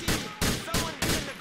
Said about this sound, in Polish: O, już strzelają do naszego.